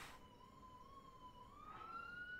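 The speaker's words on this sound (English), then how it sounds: "What the heck is that siren?" A faint, distant ambulance siren wails with a slowly rising and falling tone, steady and unaccompanied by talk.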